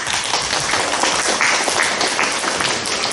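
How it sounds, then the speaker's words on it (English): Applause from a classroom audience at a student English presentation: dense, steady clapping for about three seconds, fairly loud and even, with no speech. "give yourselves a round of applause"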